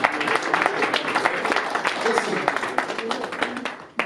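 An audience at a men's mental health awareness event gives a round of applause, lively uneven clapping with individual sharp claps standing out, while voices talk and cheer over it.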